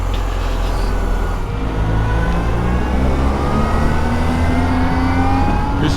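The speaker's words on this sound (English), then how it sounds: "I can just hear that bike whining when you hit the throttle" An electric motorcycle under throttle, with a loud, steady, rising whine over a constant roar of road and wind noise and no voices.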